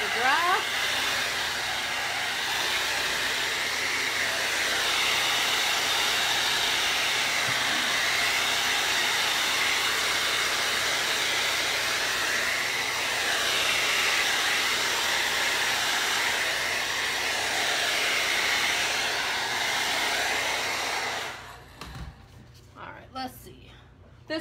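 A hair dryer blows steadily on freshly painted wood, a loud, constant rushing hiss close by that runs for over twenty seconds before cutting off, followed by brief handling noises.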